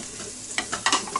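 Garlic cloves dropped into an Instant Pot for Mongolian beef, giving a few brief clattering hits and a short stirring scrape over a faint sizzle, close up, with no talking.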